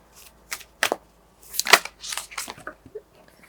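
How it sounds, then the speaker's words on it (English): Moonology Manifestation Oracle cards being shuffled by hand, a series of short crisp riffling bursts and papery slaps, close up and irregular, alone without talk. "So now I'll shuffle the Moonology Manifestation Oracles."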